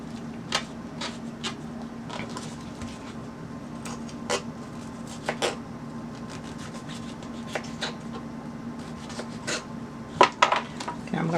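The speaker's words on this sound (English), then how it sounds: "Now I'm just I'm gonna cut them smaller than this." Cucumbers being cut into smaller pieces with a knife for Liberian vinegar pepper: a run of sharp, irregular chopping taps, mostly light with a few louder knocks, close up and with no talking.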